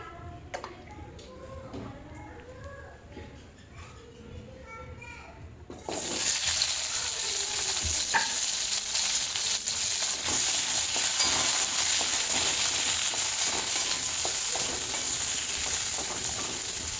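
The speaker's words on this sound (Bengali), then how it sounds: "এবার আলুগুলোকে ভাজা ভাজা করে নেব" Potatoes frying in a pan while soybeans are being cooked, quiet stirring and faint background sounds that give way to a loud, steady, close sizzle of hot oil that carries on to the end.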